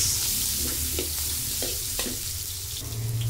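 Ginger and onion sauté in hot oil, giving a loud, steady sizzle close by with occasional stirring scrapes and no voices.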